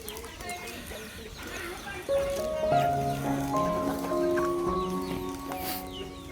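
Free-range village hens in a rural yard, with soft clucks and short calls rising among other farmyard animal noises, including what may be a horse, growing louder after the first couple of seconds.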